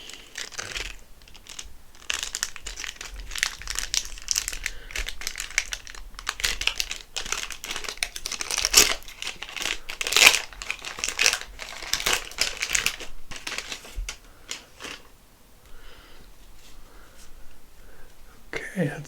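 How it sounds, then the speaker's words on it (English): Wrappers on packs of 1991 Upper Deck NFL football cards crinkle and crackle up close, an irregular run of papery rustles and sharp crackles lasting several seconds before fading into quieter handling. "today we're going to be opening up 2 packs of Upper Deck 1991 NFL football"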